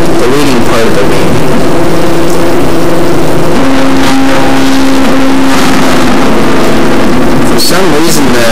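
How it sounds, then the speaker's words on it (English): Stepper motors of a CNC hot-wire foam cutter shaping airplane wing foam, a loud, steady tonal whine with droning harmonics that shifts pitch abruptly a few times as the axes change. "For some reason, the Y-axis stepper motors are much quieter than the X-axis."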